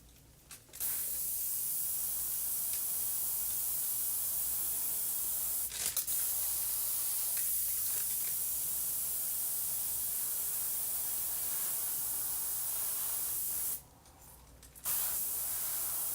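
Spray paint hisses in long, loud continuous bursts while a graphic is painted onto a surface, broken by a couple of brief pauses and one clear gap near the end before spraying resumes.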